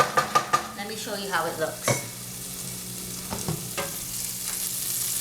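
Madras curry frying in a pan, a soft sizzle beneath several sharp scraping stirs of a spoon, with a person speaking briefly over it.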